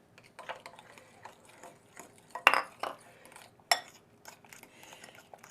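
Cooked macaroni and cheese being spooned into a quart baking dish: a few soft scrapes and two sharp clinks of a utensil against the dish, close up, with no talking.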